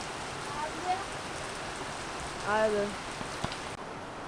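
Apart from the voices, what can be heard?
heavy rain falling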